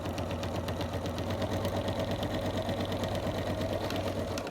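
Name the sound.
sewing machine stitching fabric for an overlocker cover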